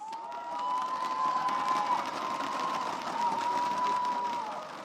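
A crowd at an esports qualifier final cheers in a steady, sustained roar, a distant mass of voices that swells slightly and holds for several seconds without distinct speech.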